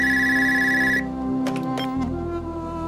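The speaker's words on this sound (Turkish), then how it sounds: "telefon sana" A telephone rings in a home, a steady electronic ring tone that carries over the opening second, then gives way to quieter tones and brief clicks with no talking.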